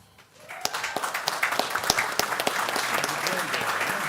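Applause at a township council meeting in Saddle Brook, a crowd clapping steadily after a quiet start, with sharp individual claps standing out and faint voices underneath.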